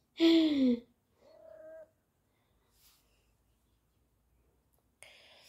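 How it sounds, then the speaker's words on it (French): A cat meows once, fairly close and clear, then gives a shorter, softer meow; quiet pauses follow, with a faint rustle near the end. "Si jamais vous entendez des miaulements, désolé."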